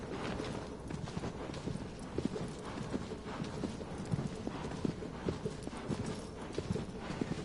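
Horse hooves clip-clop steadily on the ground in the video game Shadow of the Colossus, a continuous rhythmic stream of fairly close, moderately loud hoofbeats with no talking over them.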